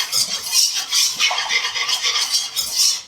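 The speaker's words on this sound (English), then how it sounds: "we're going to add the milk. And I like to add it pretty slowly and whisk" Milk being whisked slowly into a mac and cheese sauce in a pot, a busy, steady scraping and swishing of the whisk with small clinks, continuous and close with no talking.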